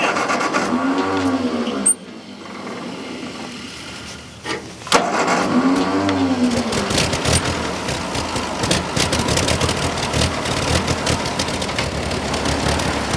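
An old farm tractor's engine runs after sitting unused for decades, a rough low idle chugging close by with a couple of abrupt cuts and restarts before it settles into a steady throb.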